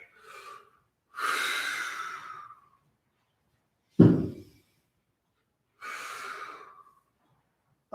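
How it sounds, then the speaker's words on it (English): Slow, deep breaths during a vocal warm-up, with long airy inhales and exhales separated by silence and one sharp, forceful exhale in the middle, all close to the microphone. "Breathe and stretch."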